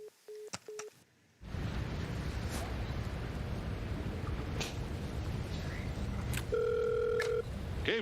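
A telephone sounds a quick series of short electronic beeps, then a stretch of steady line hiss, then a sustained ringing tone, all fairly quiet with no talking.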